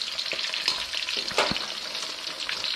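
A crispy Thai omelette (khai jiaow) of egg sizzles and crackles in hot oil after being flipped, steady close frying with sharp spattering pops.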